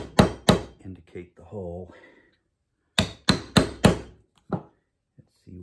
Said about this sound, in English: I'm gonna go ahead and knock this pin the rest of the way out